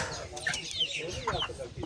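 Broiler and Jersey chicks cluck in short, repeated bursts close by, a busy little flock calling over a low background murmur.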